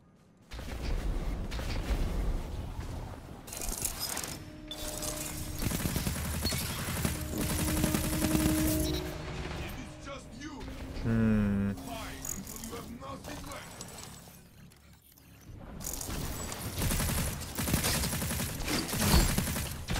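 Sustained bursts of automatic gunfire in a Destiny Trials match, a player emptying a full magazine, with dense rattling volleys and game effects stretching over many seconds, briefly dipping before resuming.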